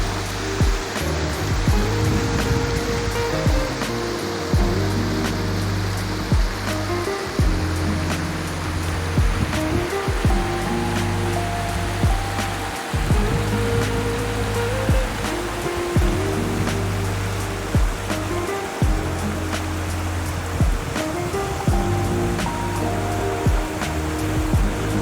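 A raging waterfall in Banff National Park roars in a dense, steady rush of water with a deep thundering rumble underneath, loud and continuous throughout with no talking.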